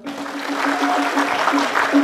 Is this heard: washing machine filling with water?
no